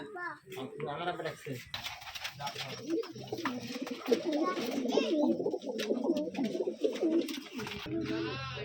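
Tumbler pigeons on a pigeon farm coo in a busy, uneven chorus around a male bird, mixed with people talking and a voice over the whole stretch.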